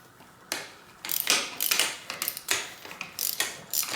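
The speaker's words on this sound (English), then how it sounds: "Loosen that bolt." Ratcheting clicks from a wrench loosening a bolt on a RockShox Indy S bicycle suspension fork, several short bursts of rapid close-up clicking with brief pauses between them.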